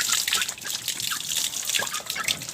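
Dirty water from a chicks' drinker is poured out, giving a soft, continuous trickle and splash with scattered drips, moderately quiet and close, with no talking.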